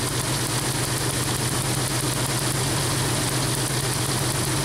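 A small engine with one spark plug unhooked runs on a single cylinder, steadily and roughly, a continuous uneven buzzing idle with no pauses.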